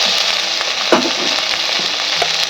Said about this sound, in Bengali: ভাজতে ভাজতেই সেদ্ধ হয়ে যাবে আমি সব কিছু ভালো করে নাড়িয়ে নেবো